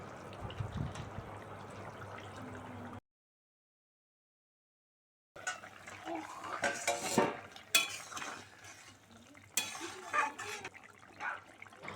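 Utensil scraping and clinking in a pot as rohu fish pieces and vegetables are stirred together for a thin curry, intermittent and close, after a brief quiet gap; no talk.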